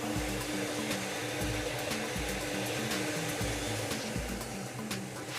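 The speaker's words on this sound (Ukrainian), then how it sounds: "Чітко працює лототрон" A lottery ball drawing machine runs during a Lotto-Zabava draw, giving a loud, continuous blowing whir with rapid rattling of tumbling balls throughout.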